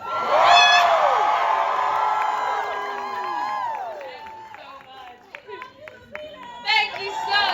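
A live studio audience screams and cheers loudly on a Friday night, a dense crowd roar with whoops that peaks early, then trails off into scattered shouts and a renewed burst near the end.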